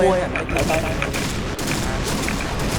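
Rapid gunfire in the shooting video game Point Blank: a dense, loud burst of shots runs continuously through the short clip, with a voice speaking briefly at the start under the noise.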